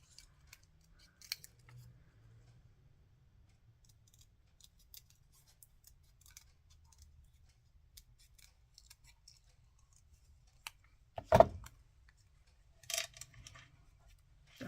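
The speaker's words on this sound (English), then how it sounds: "It's very hard to get rid of the white without cutting everything off." Scissors snip through white card for a handmade Christmas card, a few quiet clicks and then one sharp, close cut followed by a short burst of snipping, with near-silence between.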